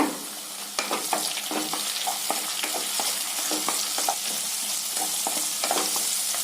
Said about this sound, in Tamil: அதை இதோட சேர்த்து நல்லா வதக்கி விட்டுறலாங்க